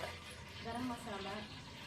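Stirring and mixing veg manchurian with carrots, salt and garam masala in a pan: a soft scraping and gentle sizzle, close and continuous, with a voice talking quietly underneath.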